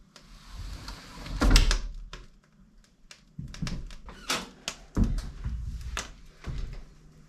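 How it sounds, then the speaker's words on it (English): Windows being closed inside a newly built house with a steel roof, heard as several nearby knocks, slides and thuds of frames shutting, spaced irregularly with quiet gaps between them. "So I'm going to close up the windows."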